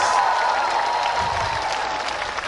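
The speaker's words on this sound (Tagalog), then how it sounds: "Pumalakpak ng malakas na malakas!" A congregation at a Catholic El Shaddai worship gathering claps loudly, a dense, steady, continuous applause that fills the whole stretch with no voices standing out.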